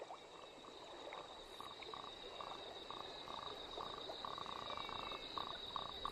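Frogs and toads croak steadily from rain-flooded hollows among coastal dune rushes, a dense rhythmic chorus of repeated calls with a constant high insect-like trill running underneath, moderately distant and continuous throughout.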